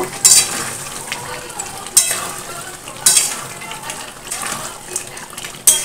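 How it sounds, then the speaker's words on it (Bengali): Chicken kasha curry with potatoes and garam masala powder being stirred in a pan, with repeated sharp scraping strokes of the spoon at roughly one-second intervals over a steady low sizzle, close and moderately loud, with no talking. "গরম মশলার গুঁড়ো দিয়ে আমি একটু নাড়াচাড়া করে নেব"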